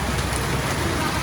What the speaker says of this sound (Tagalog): Yan naman ang ulan.